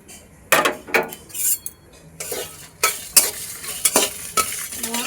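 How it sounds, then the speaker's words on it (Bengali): Whole spices (dried chilli, cumin, coriander, cinnamon, cardamom, cloves) are stirred in a hot dry pan, giving irregular scraping and rattling strokes of a spatula against metal, close and fairly loud, with quiet gaps between. "কড়া গরম হয়ে গেছে, সমস্ত কিছু শুকনো খোলায় নেড়ে নেব।"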